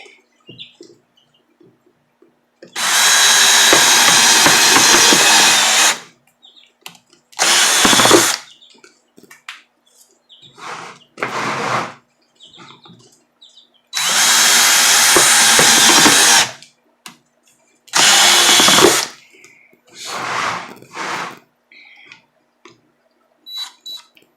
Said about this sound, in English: I just may as well drill them all right now at the same time